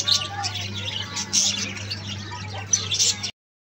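Small birds chirp and tweet in quick bursts over a low steady hum in a park in Rawalpindi, with a voice speaking faintly in the background.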